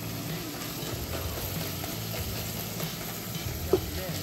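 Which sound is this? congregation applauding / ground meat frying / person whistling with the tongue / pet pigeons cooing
ground meat frying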